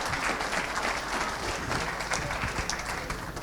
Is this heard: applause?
yes